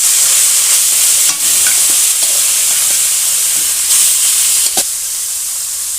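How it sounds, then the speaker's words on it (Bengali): Small fish frying in hot oil in a wok for a spicy Bengali fish curry, giving a loud, continuous close-up sizzle with occasional sharper crackles and spatters. "মাছগুলো ভাজার জন্য আমি কড়াইয়ে তেল দিয়ে দিচ্ছি।"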